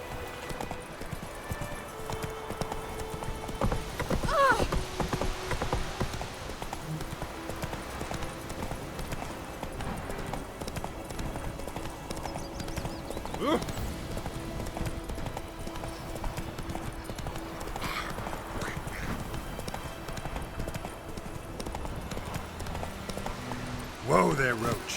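Roach the horse galloping in The Witcher 3, hoofbeats pounding steadily all the way through with other game sounds and a voice speaking at points.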